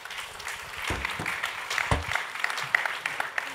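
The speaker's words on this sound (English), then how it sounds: "Let's give them a nice round of applause." An audience applauds at an ocean innovation event, a sustained patter of clapping with a few louder close claps, continuing evenly throughout.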